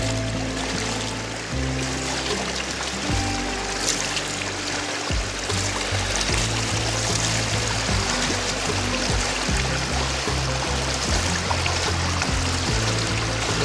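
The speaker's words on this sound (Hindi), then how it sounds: "यह है छोटे बनोद नाले का पानी जिसे मैं अभी क्रॉस करता हूँ" Rushing water of a small stream, swollen and red-brown with floodwater, being waded across near the Kosi River; a steady broadband wash runs loud and continuous throughout, with low rumbling splashes from the crossing.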